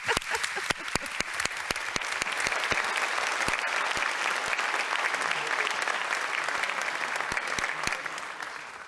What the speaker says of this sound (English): Let's have a round of applause for human passion and creativity.